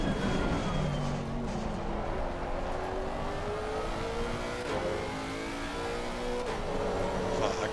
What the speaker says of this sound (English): The car is exiting the pits, watch out.